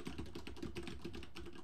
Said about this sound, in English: Sorry for my excruciatingly loud keyboard